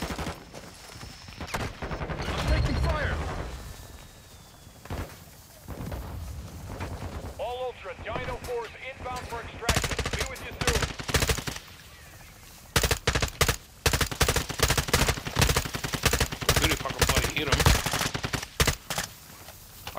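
Gunfire in the video game Ashika missions, scattered bursts early on giving way to rapid repeated volleys in the second half, loud and close, with players talking in between.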